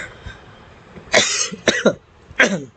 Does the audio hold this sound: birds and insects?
no